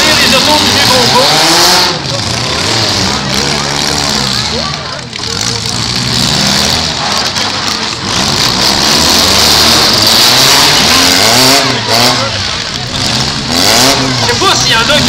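Several cars rev and drive hard in a car race, their engines rising and falling in loud, overlapping sweeps throughout, with voices mixed into the din.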